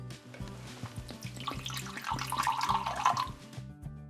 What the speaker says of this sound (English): To our jar of baking soda, we need to add about 1/4 cup of vinegar.